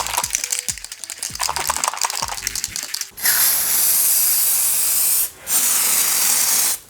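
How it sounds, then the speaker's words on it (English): Spray Max 2K clear coat hisses out of an aerosol can onto Civic headlights in short bursts. Then comes one long, loud, continuous spray with a brief break before it resumes. "I'm going to use this Spray Max 2K clear coat."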